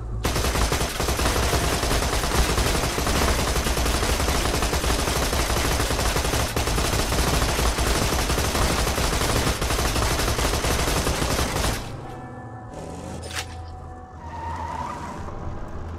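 Sustained rapid gunfire blazes in a Borderlands 2 firefight, loud and unbroken for several seconds before cutting off abruptly, leaving quieter scattered effects and faint pings.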